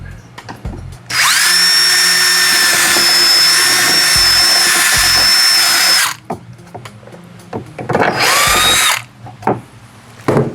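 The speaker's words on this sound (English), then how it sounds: "now I'm going to go ahead and drill the hole for this. I'm going to use my unibit" A power drill with a step bit (unibit) whines loudly and steadily for about five seconds as it cuts a hole, then runs again in a shorter burst.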